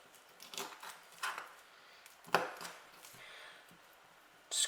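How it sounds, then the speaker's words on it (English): A knife cuts and scrapes meat off a lamb shank, several soft separate strokes at irregular intervals, close and quiet, with no talking. "we just want to cut through the meat. Just cut around it. Cut that meat off."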